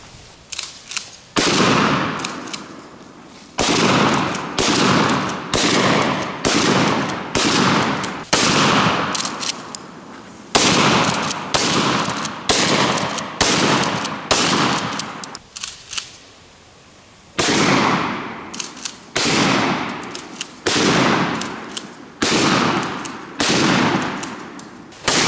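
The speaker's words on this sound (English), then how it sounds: "Now let's bust them open with a shotgun." Shotgun blasts hit pumpkins already burned with a flamethrower, a long outdoor run of loud, sharp booming shots in quick irregular bursts with short pauses between volleys.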